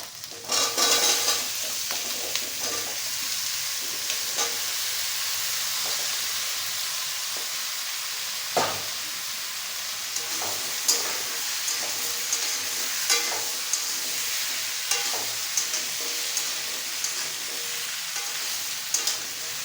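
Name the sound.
taro and potato frying and being stirred in a pan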